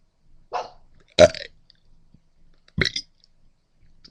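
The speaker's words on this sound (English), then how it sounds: "I'm going to try to attempt belching my ABCs while on the ground" A person belching the alphabet while lying on the ground, three short loud burps spaced irregularly, close and dry, with faint small noises between.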